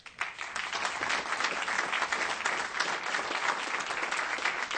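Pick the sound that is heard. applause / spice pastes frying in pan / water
applause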